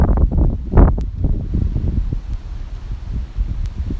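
Gusty wind buffets an outdoor microphone, rumbling low and steady for four seconds with a louder burst near the start that gradually eases into a softer, continuous rush.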